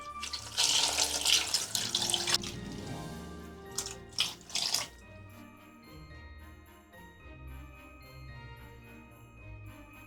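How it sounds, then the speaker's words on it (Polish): Water runs from a tap into a pot of vegetables for a few seconds, splashing and filling, then quiets to faint clinks and a low hum. "I warzywa zalewamy wodą."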